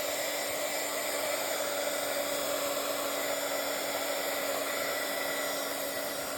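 Hair dryer blowing steadily on texture paste and washi tape in a Bible journal, a constant close whooshing hum with a faint whine, unbroken for the whole stretch with no talking.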